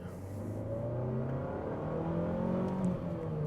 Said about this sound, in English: So I'll show you that long throw into second.